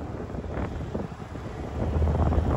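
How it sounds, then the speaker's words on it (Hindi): Cool wind blows steadily outdoors along a Delhi road, making a continuous low rumbling buffet against the microphone that grows a little stronger toward the end, with no voices. "अभी तो ठंडी ठंडी हवा चल रही है"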